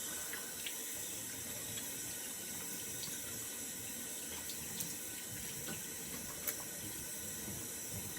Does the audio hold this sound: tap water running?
yes